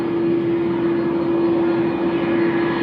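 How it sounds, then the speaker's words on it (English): Steady, loud roar of CF6 jet engines on heavy aircraft at Tokyo Haneda airport, a continuous drone with a constant hum and no breaks. "All I can hear is these CF6s over here."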